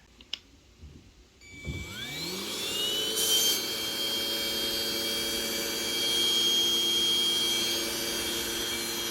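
A Deerma VC20 Plus handheld cordless vacuum cleaner clicks on, its motor whine rises quickly in pitch, and it then runs as a steady, fairly loud whir close by.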